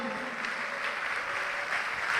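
A church congregation applauds during a sermon, a soft, continuous wash of clapping heard at a distance from start to finish.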